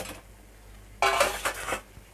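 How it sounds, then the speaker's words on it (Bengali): Fried potatoes being stirred into a cooking pot of chicken kosha, giving a short burst of metal scraping and clinking against the pot, then a few softer knocks, alone with no talk. "ভাজা আলুগুলো এর মধ্যে দিয়ে দেবো। দিয়ে এর মধ্যে আমি একটুখানি নাড়াচাড়া করব"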